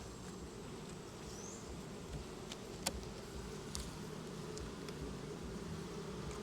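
Honeybees buzzing densely around an open hive, a faint steady drone with a few brief clicks scattered over it and no talk.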